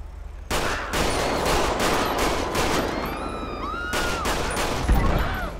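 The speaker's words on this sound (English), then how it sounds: "Dispatch, shots fired." Rapid gunfire from several weapons in GTA V with the LSPDFR police mod: dense, loud bursts of shots run throughout, with sharp cracks standing out and faint voices and radio-like tones mixed underneath.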